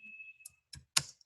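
Typing on a computer keyboard: a few sharp, separate key clicks, quiet and close, with a faint steady whine in the background and gaps between the strokes.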